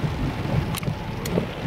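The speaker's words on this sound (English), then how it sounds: "it's raining hard" Hard rain falls outside a car parked at a Walmart lot, a steady low wash of noise heard from inside with a couple of brief sharp splashes or gusts.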